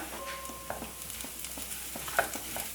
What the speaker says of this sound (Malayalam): ഇതുപോലെ നന്നായിട്ടൊന്ന് മൂപ്പിച്ചെടുക്കാം